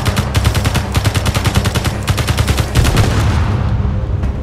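Rapid automatic gunfire from the Space Engineers video game, a loud sustained burst of evenly spaced shots that runs for several seconds before trailing off, with no talking over it.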